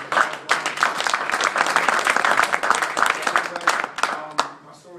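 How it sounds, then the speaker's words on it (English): An audience at a corporate pinning ceremony applauds a newly introduced managing director. The clapping is sustained and lively for several seconds before it thins out and tapers off near the end. "I want to give him a round of applause."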